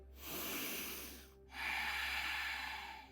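A yoga practitioner takes deep breaths, heard close up: a smooth breath lasting about a second, a brief silent gap, then a fuller, brighter rushing breath to the end, with no one speaking.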